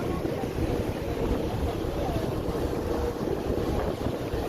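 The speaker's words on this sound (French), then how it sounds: "je sais pas si vous allez m'entendre avec le vent" Steady wind buffets the microphone on a boat out at sea off Marseille, heading to the Frioul islands, a loud continuous roar with faint water underneath.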